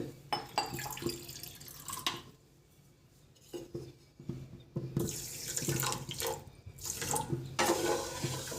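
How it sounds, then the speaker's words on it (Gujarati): Water running from a tap into a pan of sugar for syrup, a steady splashing flow that starts and stops in bursts, with brief metal and dish clatter between pours. "અને એમાં આપણે પાણી એડ કરશું પાણી આપણે એમાં ખાંડ આપણી ઓગળે ને એટલું એડ કરવાનું છે"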